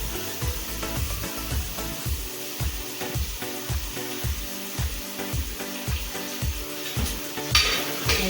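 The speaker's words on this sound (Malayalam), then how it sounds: "തേങ്ങ നല്ല നന്നായിട്ട് പൊരിക്കണം, ചെറിയുള്ളി നന്നായിട്ട് പൊരിക്കണം" Grated coconut and shallots fry in hot ghee in a pan, giving a steady close sizzle broken by regular rhythmic scraping as they are stirred, with a brief louder hiss near the end.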